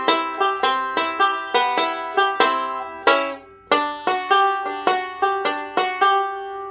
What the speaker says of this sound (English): The second way I like to walk from C into D